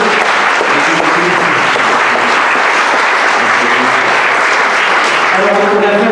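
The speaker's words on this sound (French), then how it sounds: "Je propose qu'on l'applaudisse tout de suite d'entrée." A theatre audience in Grenoble bursts into sustained, dense applause that stays loud and even throughout, with a voice faintly audible beneath near the end.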